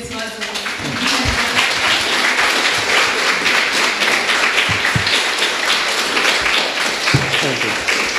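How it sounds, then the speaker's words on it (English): Conference audience applause at a psychology conference, a full, loud burst of clapping that swells after a brief opening voice and continues steadily, with occasional louder individual claps. "I'd like a round of applause"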